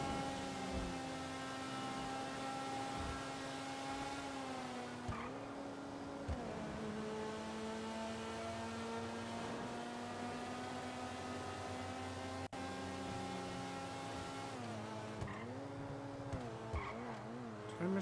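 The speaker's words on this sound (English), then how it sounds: "There's just a certain level of satisfaction about bobbing and weaving through traffic" Fast car weaving through freeway traffic in a retro racing video game, a steady loud engine drone rising and falling with gear shifts and occasional tire squeal, continuous and alone.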